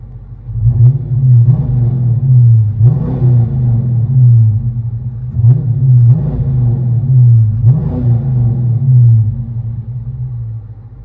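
Cabin view of a 2015 Dodge Charger with a 5.7L HEMI V8 and Flowmaster Super 10 dual exhaust: a deep, steady rumble swells in three or four repeated revs, loud and close, with no talking.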